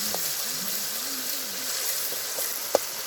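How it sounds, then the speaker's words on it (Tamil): Ginger garlic paste sautés in hot oil at an outdoor jungle cooking spot, giving a steady soft sizzling hiss with a single sharp pop near the end. "இஞ்சி பூண்டு பேஸ்ட்டு போட்டு வதக்குறோம். பச்சை வாசனை போகிற அளவுக்கு வதக்குறோம்."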